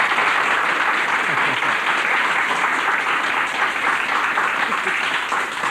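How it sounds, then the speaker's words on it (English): A television talk show studio audience breaks into sustained, even applause, a dense wash of clapping that holds steady and loud for several seconds. "Let's give her a round of applause."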